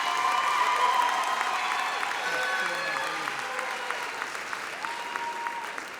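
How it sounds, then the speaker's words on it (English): A large audience at a 2023 high school graduation ceremony bursts into sustained applause and light cheering, a dense wash of clapping filling the room and slowly tapering. "could we give all 127 of them a round of applause?"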